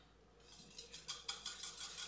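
A spoon stirs sugar syrup and water in a bowl with soft, rapid scraping and light clinking that builds in intensity, close but quiet.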